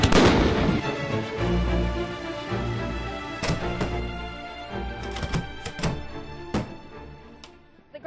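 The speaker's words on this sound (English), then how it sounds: "The ground cakes, when they fire," Ground cake fireworks fire with a loud opening whoosh, then a string of sharp cracks and pops at irregular intervals that thin out and fade, heard outdoors without talking.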